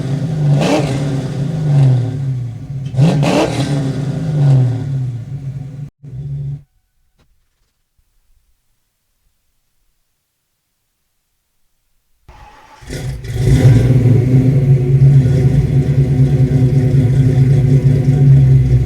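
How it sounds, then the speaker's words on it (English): A Ford Fox Body with a 351W V8 and Flowmaster exhaust, heard from about eight yards, revs in loud throaty bursts and settles back to a rumbling idle, then cuts to silence before the engine fires again into a heavy, steady rumble. "Now we'll get a maximum rev decibel reading from 8 yards away."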